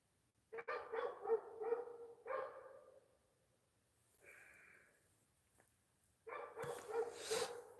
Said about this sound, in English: I think a lot of times when he starts barking, it's in response to my voice out here.